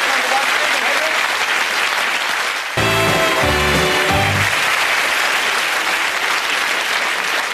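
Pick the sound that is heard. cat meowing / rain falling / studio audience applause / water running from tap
studio audience applause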